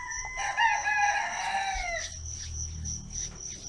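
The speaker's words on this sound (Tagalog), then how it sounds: "Habang nakikinig ng tilaok ng manok." A rooster crows once nearby, the long rising and falling call loud and clear before trailing off, followed by quieter ambient clucks and background sound.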